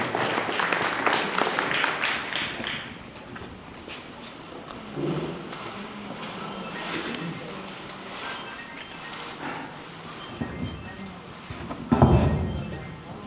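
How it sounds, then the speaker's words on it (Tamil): An audience claps to welcome dancer Anojini Kumaradasan at a Tamil Heritage Month stage event. The applause is dense and loud at first, then thins into a steady patter of scattered claps, with a brief burst near the end. "உற்சாகமான உங்கள் கரவசத்தோடு அனோஜினி குமாரதாசன்"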